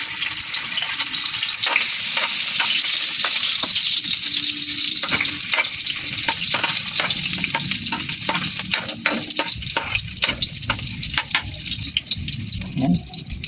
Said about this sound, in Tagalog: gisahin natin ng bawang